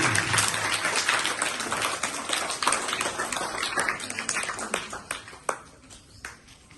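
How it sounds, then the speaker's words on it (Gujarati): Applause from an audience at a primary school quiz event in Pragpar, Mundra, crackling steadily for several seconds after a correct answer, dense and fairly loud, tapering off toward the end with a few scattered claps. "વાહ, જોરદાર તાળી"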